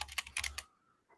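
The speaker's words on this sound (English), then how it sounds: "I'm on here just typing" Quick bursts of typing on a computer keyboard, close and fairly loud, a rapid run of keystrokes that stops abruptly, followed by near silence and one faint last tap.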